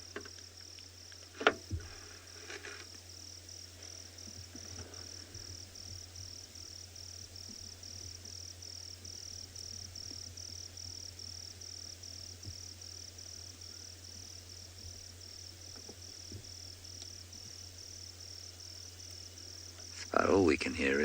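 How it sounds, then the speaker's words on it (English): Crickets chirp at a South African safari waterhole, a faint steady high trill running continuously over low background hum, with a brief louder disturbance near the end. "We can hear a couple of crickets."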